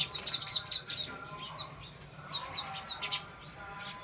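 House sparrow pairs squabble over a nest with rapid, high chirps in two clusters a couple of seconds apart, moderately near, over a low hum of background noise and no speech.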